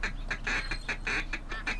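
A rapid series of nasal duck calls in the video game Duck Dynasty, about seven bursts in steady rhythm, fairly close and loud with no talking.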